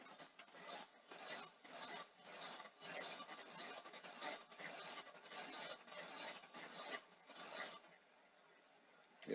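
Rhythmic scraping and grinding from the jammed heads of a Sanyo VTC5000 Betamax VCR, repeated mechanical rasps at a steady pace, then a brief quieter stretch near the end; close and fairly soft, no talking.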